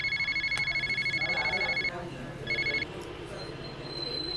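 A telephone rings during a comedic South Indian film scene: a loud, rapid electronic trill repeats for about two seconds, breaks off, then returns in a brief second burst over a low background hum.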